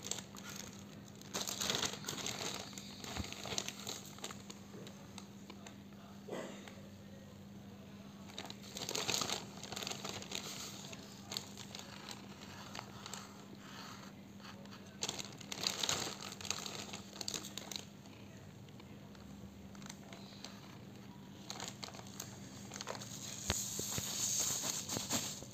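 Peeling a flower-shaped sticker off a Funskool Diwali rangoli sand art sheet gives steady close crinkling and soft crackling paper rustle, with a few louder crackly bursts throughout.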